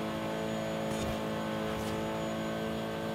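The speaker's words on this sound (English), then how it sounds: "We are inside, so we hear a lot of engine noise." Steady, loud car engine drone heard from the cockpit in the racing game Forza Horizon 5, an unbroken hum with layered harmonics and a couple of brief swells lasting the whole stretch.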